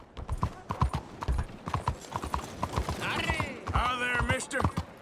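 Rhythmic hoofbeats of a horse in Red Dead Redemption II, clear and close, with a snort and whinny near the end and game character speech layered over the clopping.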